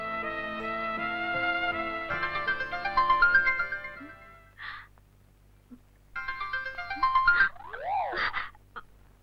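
A melodic mobile ringtone plays at night in a Bangla film scene, two bursts of bright electronic tones with a quiet gap between, clear and fairly loud with no talking.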